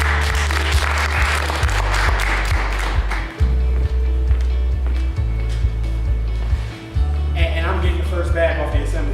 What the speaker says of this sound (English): let's give a round of applause for Mr. Willie Gates Crowder.